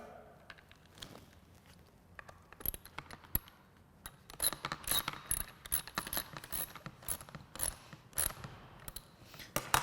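An Allen bolt is threaded into the mounting plate behind a Polaris handguard, giving a busy run of close ratcheting clicks and metallic ticks that grows denser and louder in the second half, with no voices.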